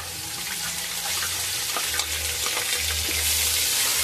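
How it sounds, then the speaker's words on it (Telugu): Ginger garlic paste frying in a pan over browned onions, a steady loud sizzle with light stirring scrapes running throughout, close up and without speech. "అల్లం వెల్లుల్లి పేస్ట్ బాగా వేగాలండి"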